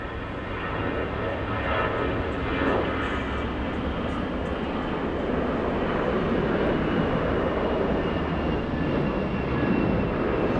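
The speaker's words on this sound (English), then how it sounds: "let's go for the A321 racing down the runway" An Airbus A321 roars down the runway on its takeoff roll at a busy international airport, a loud, steady, broadband engine rumble that holds throughout with no talk over it.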